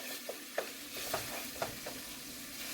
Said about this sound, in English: you're just frying it so the wrapper can get crispy